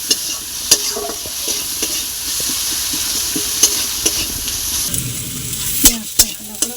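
Onions frying in a pan give a continuous close sizzle, broken by sharp spatula scrapes and clinks against the pan, louder stirring near the end.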